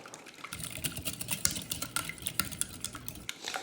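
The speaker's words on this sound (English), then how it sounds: "Then I need to whisk these eggs to break up the yolks." Free-range eggs being whisked in a bowl, with a rapid, steady run of light clinking and tapping strokes near at hand that stops abruptly just before the end.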